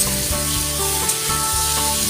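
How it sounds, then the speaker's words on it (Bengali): Tomatoes and jujubes fry in a pan while being stirred, giving a loud, continuous sizzle with a steady tonal hum running underneath. "টমেটো একটু বেশ নেড়ে চেড়ে ভেজে নেব।"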